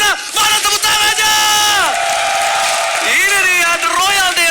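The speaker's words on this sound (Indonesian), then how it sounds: "Empel Arena, mana tepuk tangannya?" Loud, dense arena crowd at the Empel Arena roaring and cheering during an esports Royal Derby match, sustained throughout with swelling whoops and a tonal chant-like layer running under it.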